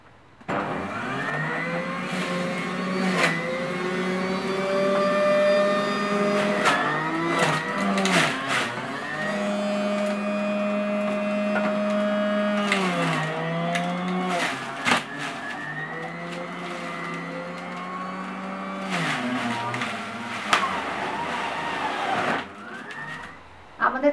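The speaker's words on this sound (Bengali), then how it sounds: "জুসার মেশিনে আমি এখন দিচ্ছি ফল।" An electric juicer machine grinds hard fruit, its motor giving a loud, continuous whine that dips and rises in pitch as each piece is pushed through.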